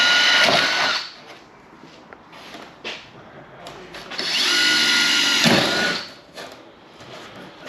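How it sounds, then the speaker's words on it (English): A power drill bores holes to fit a Maxton splitter to a Mondeo, with two long, close, loud whining bursts separated by quieter pauses and a few short spurts. "And drill all the rest of the holes."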